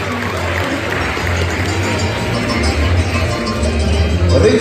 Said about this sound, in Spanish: Calurosos los aplausos para el profesor Luis Alberto Casco Correa.